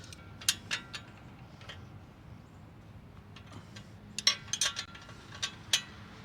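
Bolts tightened on a trailer jack bracket for a drop-leg square tube jack, with sharp metallic ratcheting clicks in two clusters separated by a quieter stretch, close and fairly crisp.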